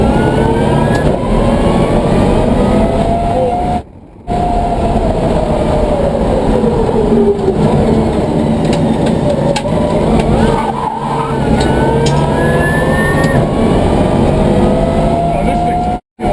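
BMW M3 electric Pikes Peak race car accelerating hard, a loud rising motor whine that builds and sweeps upward, with excited voices talking over it almost throughout.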